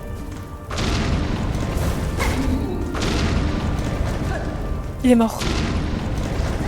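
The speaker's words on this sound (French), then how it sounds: "Oh là là, plus d'explosions, hein." Heavy explosions in the video game Hollow Knight: Silksong, Deep Docks area, rumble one after another under a voice, with a sharper blast near the end.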